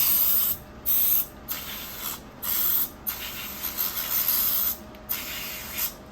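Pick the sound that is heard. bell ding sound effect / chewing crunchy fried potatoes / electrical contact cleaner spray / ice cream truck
electrical contact cleaner spray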